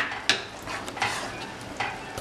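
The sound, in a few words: stirring tomato pasta mixture in a pan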